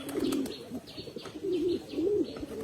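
Pet pigeons cooing close by, several soft throaty coos in a short run, with faint chirps and rustling around them.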